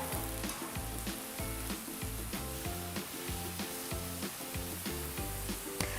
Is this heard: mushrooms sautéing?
yes